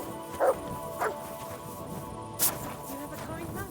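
A dog in Kingdom Come: Deliverance 2 gives three short barks or yips spaced about a second apart, close and clear over quiet game ambience.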